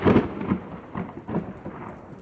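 Low thunder rumbles in rolling surges over a steady hiss of rain in Reno, Nevada, moderately loud and somewhat distant.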